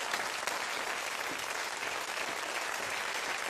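Audience applause at a patriotic song performance honouring Armenian national heroes: dense, steady clapping from a crowd, loud and continuous for the whole stretch with no voices.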